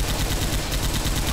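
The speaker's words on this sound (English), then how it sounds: "it doesn't help when he's shooting" Rapid gunfire in the video game Left 4 Dead 2, a loud, dense burst of continuous shots filling the short moment without pauses.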